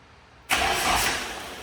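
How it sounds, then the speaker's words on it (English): A Nissan 240SX engine turns over and catches after a quiet pause, bursting into a loud, steady running rumble that settles slightly toward idle, close by and without talk. "No, start it up. She cranks."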